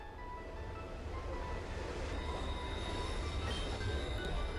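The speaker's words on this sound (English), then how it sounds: "I'm stopping this train right now." A train in the Pokemon Rejuvenation video game brakes hard, with a dense, steady rumble and metallic wheel squeal that stays loud and continuous throughout.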